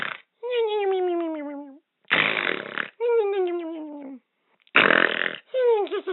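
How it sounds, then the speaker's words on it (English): A Smart Alex talking toy by Team Concepts plays a snoring effect: loud, rasping snore bursts alternating with gargling, pitch-sliding tones, separated by brief silences. "I might as well snore myself to sleep."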